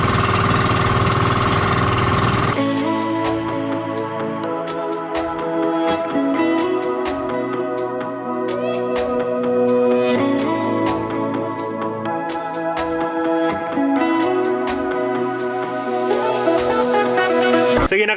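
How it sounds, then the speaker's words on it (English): A loud, steady pump boat engine drone with rhythmic knocking runs throughout, close by, near Bais City, Philippines, following a brief burst of other sound at the start. "One thing that I miss during quarantine is the sound of a pump boat."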